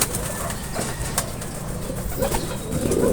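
A racing pigeon lands at the loft trapdoor on return from a race lap, with a soft flutter of wings and faint cooing over a steady outdoor background hum.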